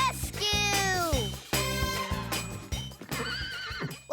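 Cartoon king's horses neighing loudly in repeated whinnies, several overlapping calls with clip-clop hooves beneath, close and continuous.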